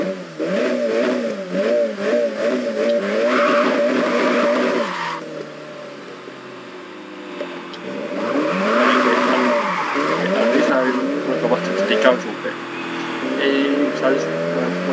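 Handbrake drifting in the Japanese Drift Master game: a loud engine revs up and down in sweeping surges with tire squeal and skidding, pauses briefly, then revs again, while a voice talks over it.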